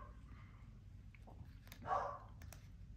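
A dog barks once at moderate distance, a brief muffled woof rising above a quiet indoor room tone; the dog seems to be reacting to something outside.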